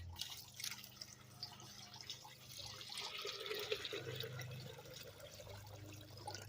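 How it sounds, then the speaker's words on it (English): Water is poured from a bin into another container holding stethoscope material being filtered for gold, a soft continuous trickle and splash that stays faint and steady throughout, with no voices. "And we're going to pour that water in here."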